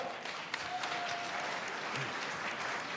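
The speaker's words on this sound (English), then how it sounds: "Please, round of applause." Dense, sustained applause from a large conference audience in New York, a steady roar of many hands clapping at once that fills the whole stretch without pauses.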